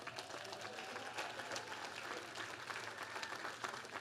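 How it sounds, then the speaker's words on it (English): Steady applause from a commencement audience at the University of the Virgin Islands, a dense, continuous wash of clapping that holds evenly throughout with a faint voice underneath. "I would ask that you give our Commencement Committee a round of applause."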